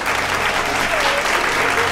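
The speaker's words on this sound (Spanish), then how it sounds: "Aplauso, por favor, chicos." Dense applause from a studio audience during a Spanish-language talk show interview, loud close clapping packed into a continuous roar for two seconds, with voices faintly mixed underneath.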